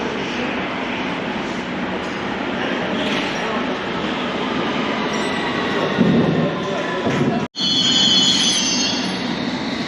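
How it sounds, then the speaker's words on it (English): Inside the Praed Street entrance of Paddington Tube Station in London, a loud, steady roar of trains and station noise fills the space, with a brief drop near the end before the rumble returns. "this is the Praed Street entrance of Paddington Tube Station"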